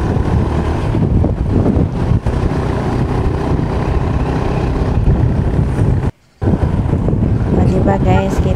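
Strong, cold wind roars and buffets loudly against the microphone on a motorcycle ride near Amadeo and Tagaytay, nearly constant throughout, with a brief drop in the middle.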